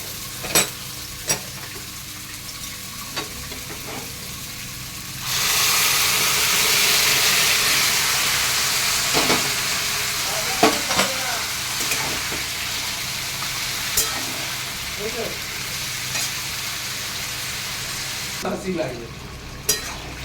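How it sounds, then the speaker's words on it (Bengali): Malabar spinach is tipped into a pan of sautéed spices, setting off a loud broad sizzle that rises suddenly and holds steady, with stirring scrapes and clinks, then eases toward the end. No talk. "এটা আমি কষানো হয়ে গেছে, এর মধ্যে আমি পুঁই শাকটা ঢেলে দেবো।"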